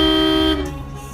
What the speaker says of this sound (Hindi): साला ये हॉर्न कौन मार रहा?